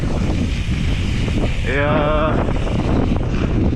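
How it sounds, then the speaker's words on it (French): Strong wind at an outdoor BMX track in the south of France buffets the microphone in a constant loud roar, while someone speaks briefly over it. "Il fait beau, mais il y a du vent"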